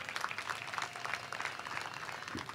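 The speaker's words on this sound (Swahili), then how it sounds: "Makofi na vigelegele kule." An audience at a public gathering of patriotic artists in Tanga applauds, a faint, distant, steady patter of many hands with no clear ululation standing out.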